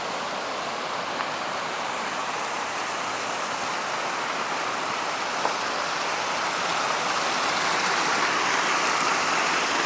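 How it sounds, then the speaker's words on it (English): Continuous rushing water from waterfalls near an old mine rail bed at Idaho's Hoodoo Mine, a steady broadband roar that stays even and close, growing slightly louder toward the end. "Then there's some waterfalls right behind us."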